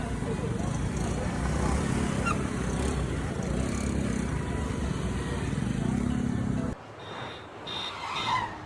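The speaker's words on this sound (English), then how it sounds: "the chaotic scooters weaving in and out of alleyways and sidewalks" Busy street traffic in Tainan with scooters weaving through alleys and sidewalks: a steady, dense motor drone with passing engines and horn toots, then the roar drops off into quieter ambient sound near the end.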